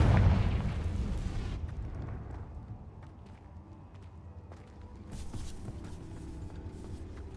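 A Confringo blasting spell from Hogwarts Legacy bursts as a loud, booming explosion at the start, then fades into a rumbling tail with scattered debris clatter and footsteps.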